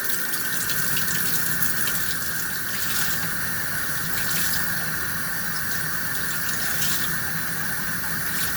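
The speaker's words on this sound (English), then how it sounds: "I'm gonna rinse them out" Running tap water splashes steadily over Fluval 406 aquarium canister filter media being rinsed in a sink, a loud, continuous gushing wash lasting throughout with no talking.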